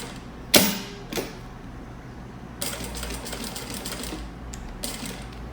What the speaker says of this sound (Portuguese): Vou costurar aqui desse lado.